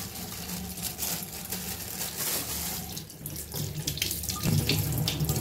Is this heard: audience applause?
no